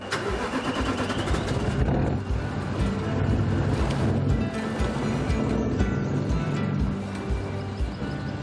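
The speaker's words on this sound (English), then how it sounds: "start the car with a little bit of accelerator and drive out off the key" A 4WD car in low range first gear drives across the Condamine river crossing, its engine running loud and close with a continuous mid-pitched roar that rises and dips slightly throughout.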